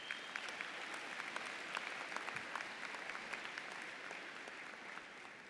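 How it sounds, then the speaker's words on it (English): Graduates at a May 2017 business school commencement ceremony give a sustained round of applause, a steady dense patter of many hands clapping throughout without spoken words. "Give yourselves another round of applause"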